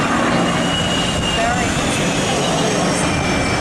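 Rolls-Royce Merlin engine of a Mustang fighter at an air show, a loud steady roaring drone that holds close and continuous throughout, with talk over it.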